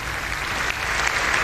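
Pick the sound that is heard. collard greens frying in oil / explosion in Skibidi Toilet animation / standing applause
standing applause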